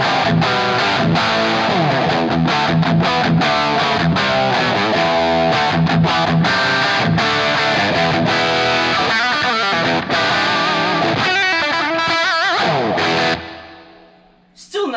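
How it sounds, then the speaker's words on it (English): An electric guitar played through a Marshall JCM 800 2204 amplifier with gain set to 4 sounds loud and close, driven chords and riffs carrying mild distortion, continuous for most of the stretch before cutting off near the end. "If I put it on 4, you can hear a little bit more harmonic distortion in the top end happening."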